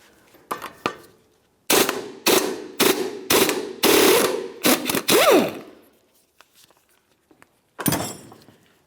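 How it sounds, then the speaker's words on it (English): Loud bursts of an impact gun or ratchet removing a rusted lower ball joint nut with a 24mm socket on a 2002-2005 Ford Explorer, several sharp rattling runs in close succession, then a pause before one final burst, with no talk. "Use a 24mm socket to remove the nut."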